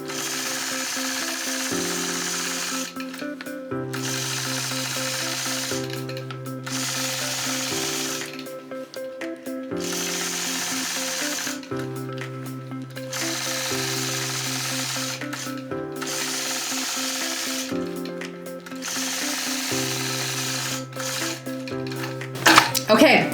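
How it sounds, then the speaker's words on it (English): A sewing machine stitches in the ditch around a quilted heart, running in repeated bursts of several seconds each with pauses between them, close and fairly loud. "I will go into the center now and stitch in the ditch around that center"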